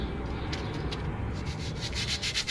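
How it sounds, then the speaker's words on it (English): Sandpaper scrubs rust from the surface of a brake rotor on a Mazda 323F in steady back-and-forth strokes. The rasping is continuous and close, with no talk. "To remove the rust, use a sandpaper to the rusty surface."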